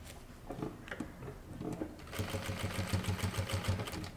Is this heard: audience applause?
no